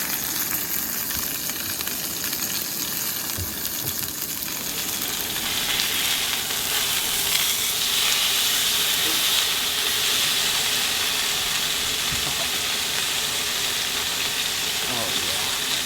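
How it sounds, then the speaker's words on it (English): Steak sizzles loudly and steadily in a hot cast iron pan, a constant crackling hiss that swells a bit partway through. "Sizzle, baby, sizzle."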